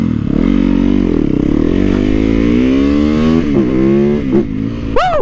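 A motorcycle revs hard and continuously while riding wheelies, loud and close, with the engine pitch rising and falling and sharp throttle blips near the end.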